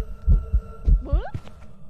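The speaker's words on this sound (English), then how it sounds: "It's always creepy when you start hearing that heartbeat." A heavy, muffled heartbeat pulses in a steady thump-thump rhythm during a ghost hunt in the video game Phasmophobia, over a low hum, with a brief voice sliding in partway through.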